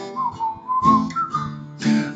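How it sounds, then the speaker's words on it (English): Human whistling of a song's tune, a clear melodic whistle carrying several sustained and gliding notes in phrases, close and fairly loud, with some faint voiced sound underneath. "just purse your lips and whistle, that's the thing"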